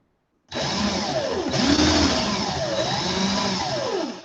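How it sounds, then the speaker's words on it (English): A power drill runs steadily for about four seconds at close range, twisting wires together for coil jewelry, its motor whine rising and falling slightly as the wires tighten. "Watch this hand compared to this drill as I twist."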